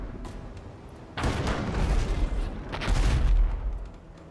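Ship cannons firing in the naval combat game Abandon Ship, a loud rolling barrage of booming shots in two heavy bursts with rumbling low end and crackling debris between them.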